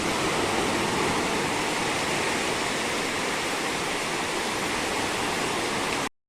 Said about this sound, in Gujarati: જો તમે દરિયો પણ અત્યારે થોડોક તોફાને છે, મોજા આવે છે બહુ મોટા મોટા દરિયાની અંદરથી.